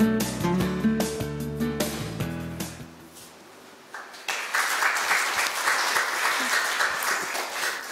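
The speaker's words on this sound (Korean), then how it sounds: "큰 박수 부탁드립니다." Big round of applause at a 2014 Korean language and culture globalization forum, as the head of the National Institute of Korean Language steps up to speak. A short musical cue plays first, then steady, full clapping from the audience carries on.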